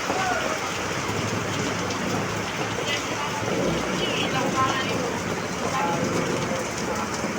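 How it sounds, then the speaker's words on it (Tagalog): Heavy rain pours down in Lopez, Quezon, as the streets begin to flood, making a dense, continuous hiss and patter that holds steady throughout with no break. "Grabe ang ulang yan."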